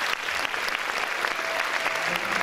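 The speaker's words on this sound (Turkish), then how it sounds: "Önce büyük alkış onlara gelebilir mi?" A concert audience at a Turkish folk music night applauds young performers, producing a dense, steady wash of many hands clapping throughout without pause, fairly loud and close, with faint murmurs beneath.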